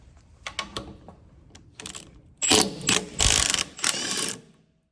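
A ratchet wrench fitted with an E24 socket clicks while loosening car wheel nuts, first in short scattered clicks, then in long fast loud ratcheting bursts close to the ear.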